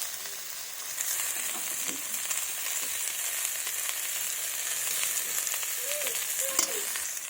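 A paste of ground dried chili, ginger and cumin fries in hot oil in a pan for a fish dish with bottle gourd shoots, giving a loud, continuous, dense sizzle that holds steady throughout with faint stirring scrapes.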